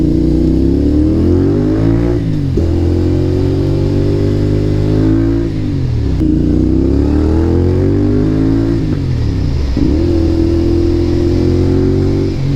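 A CFMOTO 450 SR motorcycle engine revs repeatedly nearby at night in the city, its pitch climbing and dropping in about four loud, steady cycles over a continuous idle.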